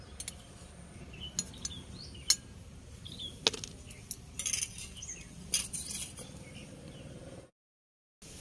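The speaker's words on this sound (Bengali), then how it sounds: "এই চামচ দিয়ে দিচ্ছি চাটনিটা।" A metal spoon scrapes and taps on a dish while chutney is served. Several light, close clinks and clatters stand over a quiet room background.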